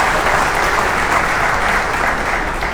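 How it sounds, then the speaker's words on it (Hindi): Sustained, dense clapping from a large audience at a workshop welcoming agriculture college scholars, loud and close, steady throughout. "मैं चाहूँगा उनको तालियां बजाकर हम उनका स्वागत करें।"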